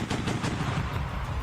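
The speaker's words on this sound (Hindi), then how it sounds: "सबूत के तौर पर रूसी सेना ने एक वीडियो जारी किया, जिसमें उनका एक टैंक अपने दुश्मनों पर ताबड़तोड़ गोलियां दागता नजर आया।" Rapid bursts of gunfire from a Russian tank firing on enemy troops in wartime footage, a quick rattling volley heard at a distance and fairly muffled.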